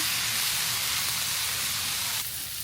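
Vegetables cook slowly over low heat on a griddle, caramelizing with a steady, soft hiss. The sizzle is continuous and dips a little toward the end, with no talking over it.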